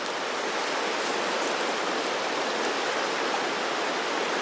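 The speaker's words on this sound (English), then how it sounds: "How to clean out your cast iron is get some kosher salt. I got more than enough. And pour the salt" Kosher salt pouring into a cast iron pan at a campsite, a steady even hiss of grains lasting several seconds with no talk.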